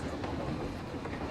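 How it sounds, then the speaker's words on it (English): A ride train in the Planet Coaster game rolls along its track with a steady rumbling clatter, short and continuous, with no voices. "lovely train ride"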